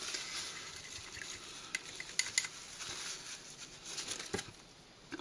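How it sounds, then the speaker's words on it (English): A paintbrush is rinsed in a water jar while painting upcycled security envelopes, making faint, close swishing and light taps and clinks of the brush against the container. "I'm going to rinse my brush."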